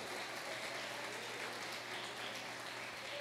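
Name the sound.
congregation applauding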